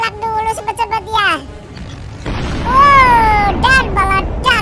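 Bomb exploding in a Skibidi Toilet animation, a long roaring rumble of noise that swells and holds, with tonal voice-like cries and sounds before and over it.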